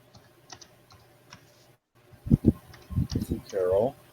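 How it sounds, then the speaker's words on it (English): Sparse, quiet keystrokes tap on a computer keyboard, then a short burst of louder, closer typing follows, with a person speaking briefly over the end. "I hear someone typing."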